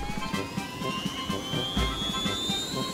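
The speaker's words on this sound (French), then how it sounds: "L'hélicoptère est prêt à fonctionner." A cartoon helicopter spins up with a rising whine and a steady rhythmic rotor thump, the pitch climbing over a few seconds with no voices.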